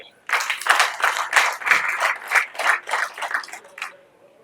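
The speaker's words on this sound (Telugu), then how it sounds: "ఒకవేళ అది నచ్చితే చప్పట్లు కొట్టండి" An audience claps together in a quick, even burst of applause lasting a few seconds before fading out.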